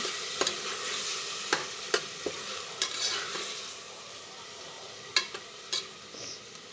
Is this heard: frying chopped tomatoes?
yes